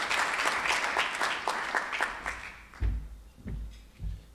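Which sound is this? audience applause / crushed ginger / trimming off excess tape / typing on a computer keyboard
audience applause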